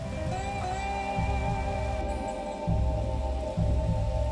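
Steady rain falls at the construction site of the Singapore Flyer, a continuous hiss with low rumbling and tonal machinery hum underneath, no voices.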